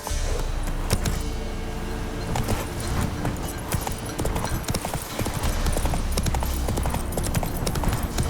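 Hooves of Roach, a horse in the video game Witcher 3, pound in a fast, steady galloping clip-clop, close and continuous, with ambient game sound beneath.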